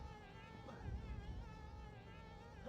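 Bees buzzing in Conker's Bad Fur Day on the N64, a steady, faint, wavering drone that goes on without a break.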